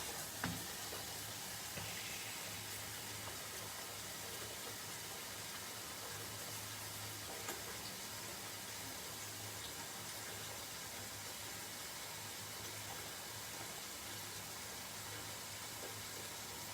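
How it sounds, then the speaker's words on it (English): Warm water runs from a tap into a bath, a steady and even rushing that fills the space at moderate volume and continues with no break. "I'm going to put some warm water in the bath."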